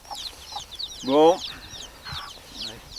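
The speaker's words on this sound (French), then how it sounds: "vous mettez ce disque-là avec cet enregistrement de poule" A hen's recorded clucking played from a record: a series of sharp, close clucks and a louder drawn-out squawk, repeated in short bursts over faint background hiss, with a voice briefly speaking.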